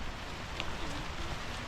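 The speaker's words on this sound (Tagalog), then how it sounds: "And it's pouring right now." Heavy rain pouring on a muddy, slippery hiking trail in the Calbiga area, a dense, steady hiss of falling water with no talk and no breaks.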